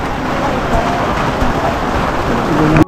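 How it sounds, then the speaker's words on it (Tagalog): Steady rain falling outdoors, a dense close hiss of drops on surfaces throughout, with a brief knock near the end. "medyo tumila na ang ulan"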